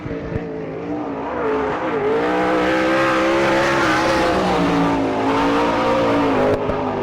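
Number 22 sprint car, showing a little smoke, circles the Mercer, Pennsylvania dirt-track oval at an All Star Circuit of Champions race, its engine a loud continuous roar with revs swelling and dipping through the corners.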